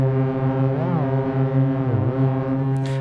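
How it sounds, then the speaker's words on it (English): Sonicware Texture Lab granular tape emulation effect: a sustained, harmonically rich drone with sharp pitch bends swooping up and down twice, loud and continuous with no voices. "but it's sort of like a tape emulation effect."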